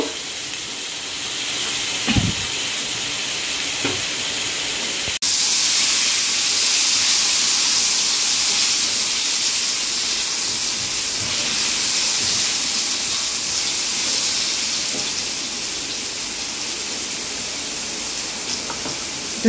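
Fish sautéing in a pan for a Bengali fish dish gives off a steady, close hissing sizzle that holds for about twenty seconds with slight swells. Faint clinks sound now and then, and no one speaks.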